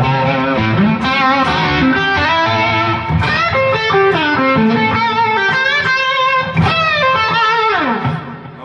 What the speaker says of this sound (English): Digital delay, pan, stereo, analog, tape, echo, and you've got two separate delays you can set up.